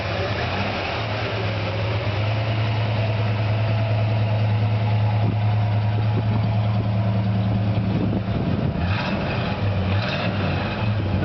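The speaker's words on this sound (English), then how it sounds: "we're going to do a startup video on the 1965 Chevelle Malibu SS one family car." A restored 1965 Chevelle Malibu SS convertible with its original numbers-matching 283 V8, rated 195 horsepower, idling steadily after start-up, a close, even low rumble throughout.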